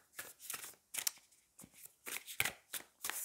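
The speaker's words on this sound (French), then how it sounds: "On va aller prendre 3 cartes, on va voir." Tarot cards are drawn and shuffled by hand, giving a series of about eight brief, crisp papery flicks and slides in a quiet room, close and fairly soft.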